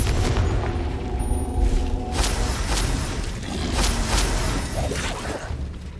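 Explosion spell blasts in a Harry Potter video game, repeated booming bursts and crackling debris over a dense rumbling battle din, loud and continuous.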